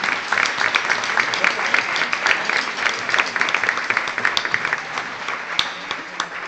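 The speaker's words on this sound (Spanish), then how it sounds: "para todos ellos y para las personas que acabo de decir, un fuertísimo aplauso" Audience applause at a traditional carnival performance in Castillo del Romeral, a loud, continuous wash of many hands clapping that fades slightly toward the end.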